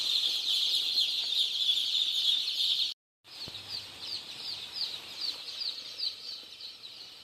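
Baby chickens on a farm keep up dense, high-pitched peeping as a crowd, steady and fairly close, broken by one brief silent gap.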